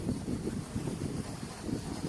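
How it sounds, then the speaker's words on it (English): Steady wind buffets a microphone outdoors during a Ruko U11 Pro GPS drone flight, a continuous low rumbling roar with gusty swells and no pauses, loud and close, with no speech. "The wind is blowing to my right."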